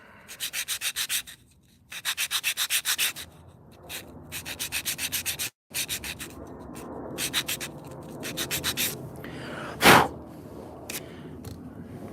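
Sandpaper beveling the edges of small wooden parts for a miniature chair, repeated bursts of rapid rasping back-and-forth strokes up close, with short pauses and a single louder scrape near the end.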